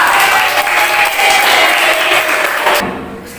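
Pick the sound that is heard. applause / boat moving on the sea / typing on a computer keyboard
applause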